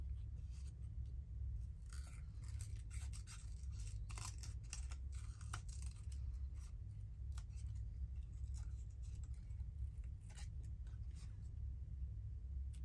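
Paper being trimmed with scissors during a home craft session making ephemera: a run of quick, light snips and rustles over a steady low room hum, fairly faint and close.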